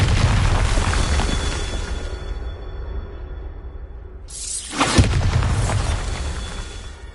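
A Bombarda spell blasts in the video game Hogwarts Legacy, a heavy booming explosion that fades into a rumbling tail, then a second sharp burst strikes near the end, loud and close.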